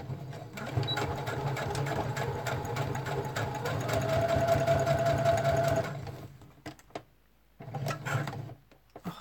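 A sewing machine runs steadily while stitching a seam on a junk trunk cover, a fast even mechanical whir lasting about six seconds before stopping, followed by a few short restarts and handling clatter.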